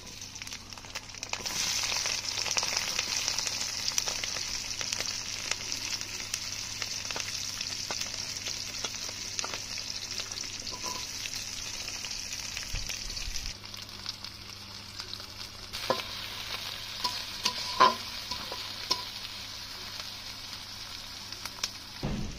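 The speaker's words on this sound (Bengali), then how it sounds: "ঝাল পেঁয়াজটা সুন্দর করে ভাজা হয়ে গেছে" Steady, loud sizzling of onion, garlic and green chili frying in hot oil continues throughout, with occasional scrapes and clinks of stirring.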